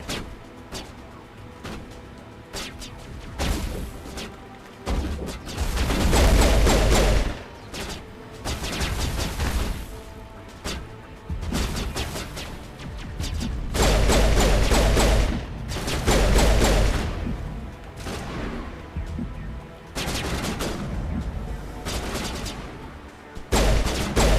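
Video game gunfire rains toward the player in dense, continuous bursts, with loud cracking volleys rising and falling over about twenty-four seconds and no clear speech.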